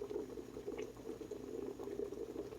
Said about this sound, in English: I'm going to add both packages of pectin and stir them in